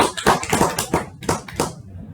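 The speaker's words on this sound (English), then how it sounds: "Please give her a round of applause." A short burst of applause for Toastmaster Prasanna at a Toastmasters meeting: a handful of people clapping in uneven, sparse rhythm, close and fairly quiet, fading out after about two seconds.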